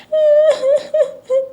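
Someone in a Hindi cartoon cries in a few short, wavering sobs, close and fairly loud, each breaking off before the next.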